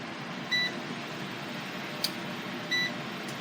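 A Cosori air fryer gives two short, clean electronic beeps about two seconds apart as its timer is set, heard over a steady fan hum. A faint click falls between them.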